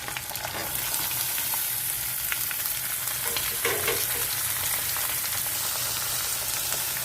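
Onion pieces fry in a pan with a steady close sizzle and crackle throughout, occasional stirring scrapes and no talking.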